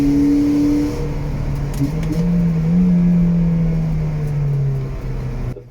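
A Ford Puma driving at about 130 km/h with the engine near 3,500 rpm, a loud steady droning hum with wind and road noise, the pitch drifting slightly, no talking.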